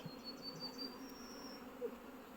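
A faint, steady hum of many honeybees buzzing and flying about at a hive entrance, with a few individual bees droning past close by.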